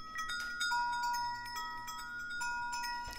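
Music track with a dotted eighth note stereo delay set to about 26% feedback and a 50% mix, soft plucked tones echoing in repeated trails over a quiet sustained bed.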